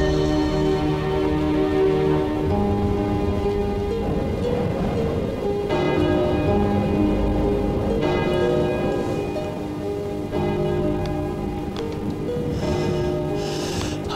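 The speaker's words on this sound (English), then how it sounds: "The bell invites me." Church bell tolling in a steady ringing sequence, several resonant strikes with long humming decay, fairly loud over a soft rain-like background hiss.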